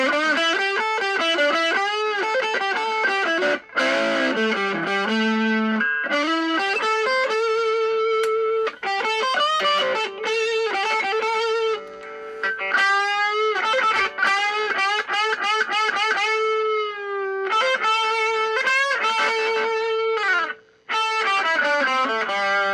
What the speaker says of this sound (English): I'm on the distortion channel right now.